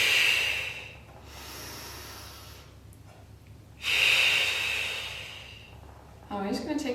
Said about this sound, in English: take a breath. We breathe out